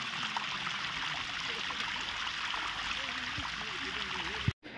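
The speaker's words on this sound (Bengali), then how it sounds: "কত সুন্দর জলটা নামছে, আর দেখো কি দারুণ লাগছে।" Water from a spring flowing down a channel in Srinagar, Kashmir, a steady broadband rush and trickle running continuously and fairly close, with faint voices underneath.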